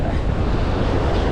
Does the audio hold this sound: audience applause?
no